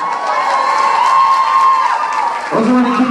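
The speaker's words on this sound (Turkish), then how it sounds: "bir alkış alayım bakayım" A concert crowd in Cologne cheers and applauds for a Turkish singer, a loud, continuous roar of voices and clapping with a sustained whistle-like tone riding on top.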